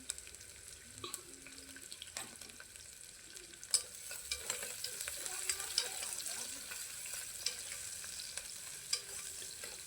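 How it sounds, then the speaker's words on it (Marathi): Finely chopped onions fry in a pan with cumin and curry leaves, giving a soft, close sizzle with scattered spatula scrapes and taps throughout. "बारीक चिरून घेतलेले 2 कांदे आपण छान असे सोनेरी रंगाचे होईपर्यंत परतून घेणार आहोत."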